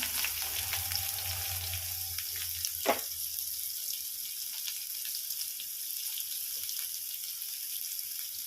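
Cumin and onion frying in oil for a masala vegetable quinoa khichdi, a soft steady sizzle with a faint low hum that fades early on.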